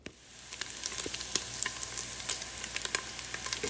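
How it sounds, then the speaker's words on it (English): Chopped bacon pieces frying in a pot until crisp, a soft steady sizzle with frequent sharp pops and crackles spread throughout, close and fairly quiet, no talking. "I have them in the pot, and I'm going to fry them until they get crispy"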